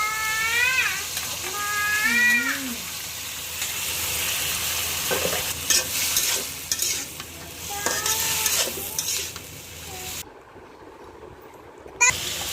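Stalks, potatoes and shrimp frying in a pan for a Bengali prawn and Malabar spinach curry: a soft sizzle under repeated clatters of the stirring spoon, with cat-like meows and a sharp knock near the end.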